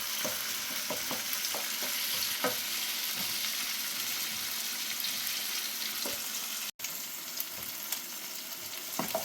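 Chopped tomatoes and green chillies sizzle in a pan while a utensil stirs them, with soft scraping strokes over a steady crackling fry, close and moderate in volume, with no voices.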